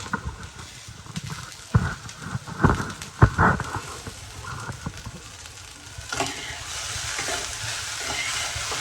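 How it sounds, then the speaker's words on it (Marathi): Okra fries in a pan with garlic, giving a close sizzle broken by several scraping, knocking stirs, and the hiss grows brighter and steadier toward the end. "आपण तिला अशी भाजून घेतोय छान म्हणजे भाजून म्हणजे फ्राय करून घेतोय"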